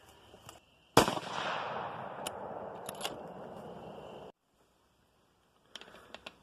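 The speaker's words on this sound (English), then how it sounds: "we're going to try to shoot this last group real quick before it gets dark" A 22-250 rifle fires a single sharp shot at an outdoor range, a loud crack followed by a decaying rumble that cuts off abruptly, with faint clicks and handling sounds before and after.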